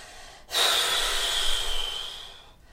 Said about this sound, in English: So just exhale out.